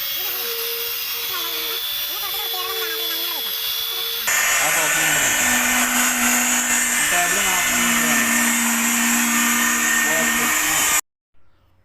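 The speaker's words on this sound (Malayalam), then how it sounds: "റബ്ബിംഗ് കോമ്പൗണ്ടും വാക്സും ഉപയോഗിച്ച് നല്ല രീതിയിൽ പോളിഷ് ചെയ്തെടുക്കുകയാണ് അടുത്തത്" A power polisher buffs an epoxy resin piece with rubbing compound and wax, giving a continuous whirring motor drone that steps up in loudness partway through, with pitch wavering as pressure changes, then cuts off abruptly near the end.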